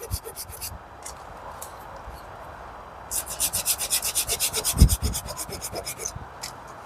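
A hand saw cutting through a length of lovely dry wood at a bushcraft camp, quick rhythmic rasping strokes close by, faint at first and then a loud steady run of back-and-forth pulls.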